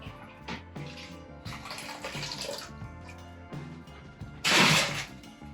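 Water pours and splashes into a brewing pot while making a Belgian ale, a broad rushing gush in several bursts with a louder, fuller pour near the end, close and alone without talk.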